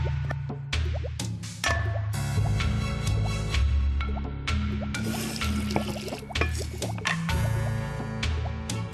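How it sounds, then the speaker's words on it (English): Old milk stirred into a bubbling mixture in the spooky mansion potion game, with wet dripping, squishing splashes and gurgles repeating in quick bursts over steady game music, no talk. "Stir in the old milk."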